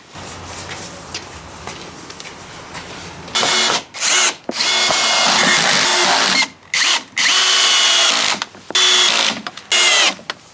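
Cordless power drill driving screws into the wooden boards of a DIY garden raised bed, loud whining bursts of one to two seconds separated by short pauses, close up.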